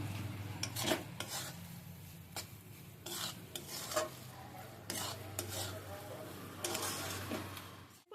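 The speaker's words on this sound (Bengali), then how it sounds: "দেশি ঘি দিয়ে দিচ্ছি এক চামচ ঘিটা দিয়ে খুব ভালো করে নাড়তে থাকবো" Ghee being stirred into motichur laddu mixture in a wok over a medium gas flame, giving repeated scraping strokes and soft sizzling that rise and fall in a steady rhythm, close and moderately loud.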